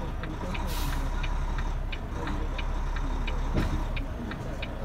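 Truck fifth wheel sliding with the brake released, a steady low rumble of an idling truck with regular metallic ticks repeating about twice a second and a short hiss of air.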